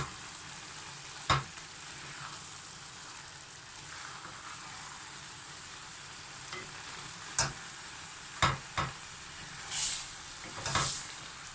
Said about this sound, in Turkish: Ve karıştıralım.